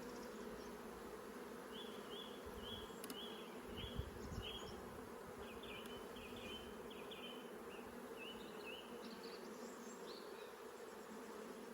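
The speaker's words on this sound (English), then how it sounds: "These bees here are actually calling back the rest of the bees" Honey bees at a hive during transfer from a nuc, a soft continuous buzzing drone with scattered higher wingbeat notes from individual bees passing close, a brief louder bump near the middle.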